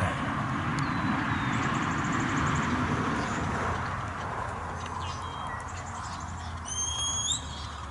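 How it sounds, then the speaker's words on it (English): Several thin, high shepherd's whistle blasts commanding a sheepdog, short rising and falling tones, sound over a steady outdoor field hiss with faint distant noise. "She's using a whistle and her voice to tell him what to do."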